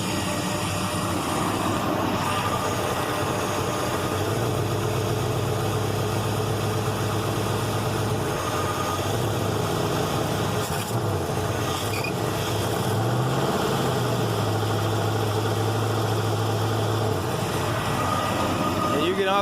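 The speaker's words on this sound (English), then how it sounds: "it's just running a little rich" A Chevy S10 truck with a swapped-in V8 engine idles while running rich, a steady, loud, low rumbling drone that holds even throughout with slight roughness and no clear pauses.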